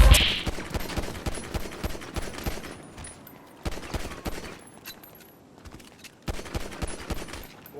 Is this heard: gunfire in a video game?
yes